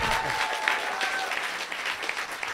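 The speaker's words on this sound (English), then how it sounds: "Y'all give Ellen another round of applause" An audience at a drag pageant at a fan convention applauds steadily, a dense sustained clapping that fills the whole stretch with no pause.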